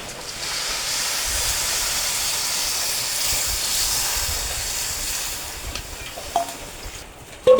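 Water poured onto broken rice grains frying in a pot sends up a loud, sustained steam hiss that holds steady, then dies down near the end, followed by a few clanks.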